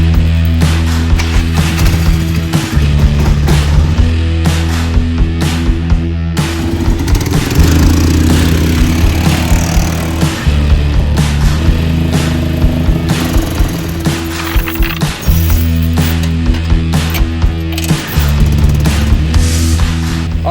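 A Polaris Sportsman 335 and a Honda TRX utility quad run together at close range, a loud steady engine drone with repeated throttle swells and shifts in pitch, alone with no talking.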